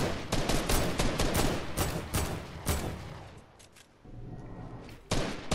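Rapid Fortnite gunfire, dense loud bursts of shots in quick succession with brief pauses, close and harsh, mostly free of talk.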